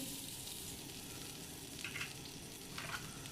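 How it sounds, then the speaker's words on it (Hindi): Butter melting on a hot tawa griddle while a chicken burger is being prepared gives a steady, soft sizzle and faint crackle throughout, with a couple of slightly louder spits near the end, close by and with no talking. "अब मैंने ये तवा ले लिया, अब इसमें मैं बटर डालूँगी"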